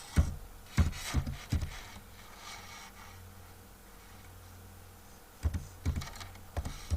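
Keys clatter on a computer keyboard as a web address is typed into a browser, with bursts of clicks at the start, a quiet pause in the middle, then a few more keystrokes near the end; no talking.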